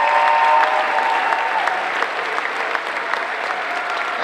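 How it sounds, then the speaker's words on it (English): A cosplay competition audience applauds steadily and loudly for several seconds, a dense wash of clapping that eases slightly toward the end. "let's give another round of applause for everyone"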